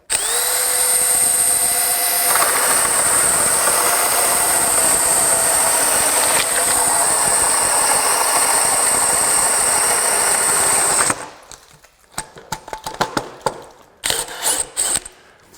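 DEWALT DCD1007 20V hammer drill drives a screw into wood in one long, loud, steady high-pitched whine lasting about eleven seconds, then stops, followed by brief clicks and short bursts of the motor.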